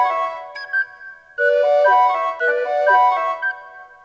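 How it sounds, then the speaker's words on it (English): A soprano recorder plays a clear, high melodic line as an added part in a fugue, with sustained notes and phrases separated by short pauses, alongside other voices of the piece. "so we can add in a soprano recorder"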